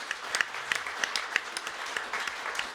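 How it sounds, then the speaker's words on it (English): A small live-show audience gives a round of applause for a performer named Sam, with sparse individual claps standing out over a thin wash of clapping, fairly close and brief. "Okay, everybody give a round of applause for Sam."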